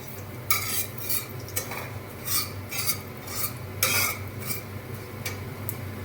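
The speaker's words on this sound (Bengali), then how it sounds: "এতে শিমটা দেব এবার" A metal spoon scrapes and stirs flat beans through hot oil with cumin in a pan in a series of irregular strokes, with a faint background hum.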